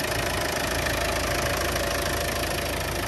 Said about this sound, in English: But engine running nicely, straightforward 300 TDI.